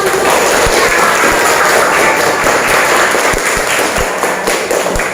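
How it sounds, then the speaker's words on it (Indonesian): Students clapping together in a classroom during a teaching practice lesson, a loud, dense, sustained round of applause lasting about five seconds with scattered sharper slaps. "iya, tepuk tangan"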